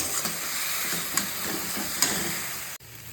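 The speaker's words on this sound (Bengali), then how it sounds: "এরকম ভালো করে ভেজে নেবো এটাকে" Sajna (drumstick) leaves frying in a pan, a soft continuous sizzle with faint stirring clicks at a moderate distance, ending with a brief knock.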